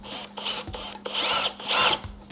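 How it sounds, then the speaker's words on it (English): A power drill with a step bit whines in short bursts, rising and dropping as it cuts a 1-inch hole for a Mustang hood strut mount, with two longer, louder grinding passes near the end. "we'll use a little step bit to drill that out to about 1 inch"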